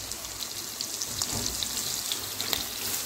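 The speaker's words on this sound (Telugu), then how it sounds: "మనము సన్నగా తరిగిన వంకాయ ముక్కలు వేసుకొని ఈ విధంగా కలుపుకోవాలి" Thinly sliced brinjal frying in oil for vangibath, a soft continuous sizzle with occasional crackles and stirring scrapes, quiet and close with no talking.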